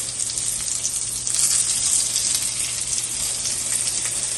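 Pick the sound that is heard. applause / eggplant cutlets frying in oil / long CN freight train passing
eggplant cutlets frying in oil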